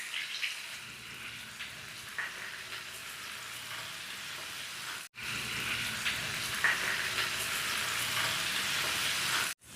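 Paneer pieces frying in ghee and being turned until golden, giving a continuous soft sizzle close by that cuts off briefly twice.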